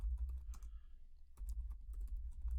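Quick clattering keystrokes on a computer keyboard while entering a search into Amazon, two bursts of rapid taps separated by a short pause, close and fairly quiet.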